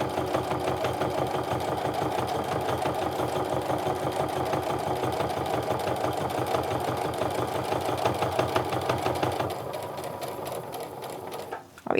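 A sewing machine stitches a clutch seam, running in a fast, steady mechanical whir with rapid needle ticks for about ten seconds, then slowing to a softer hum before stopping with a final clunk.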